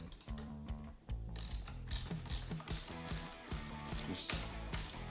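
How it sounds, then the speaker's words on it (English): A 12mm spanner turns the handlebar nuts on a Yamaha PW50, giving a close, fast, repeated mechanical ratcheting click in even bursts, heard alone. "just using a 12mm spanner"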